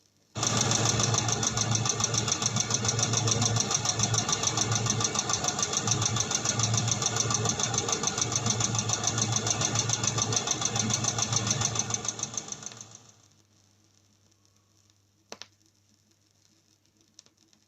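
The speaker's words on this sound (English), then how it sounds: "Here is the sound of one tappet badly adjusted." A running car engine with one badly adjusted tappet, set with too much clearance, clatters with a fast, even ticking knock, loud and steady for about twelve seconds before winding down to silence.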